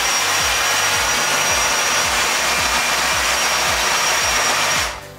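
A power drill whirs steadily and close up, with a repeated rhythmic grinding pulse as the bit bites in, before it winds down at the end.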